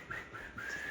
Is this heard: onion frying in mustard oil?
no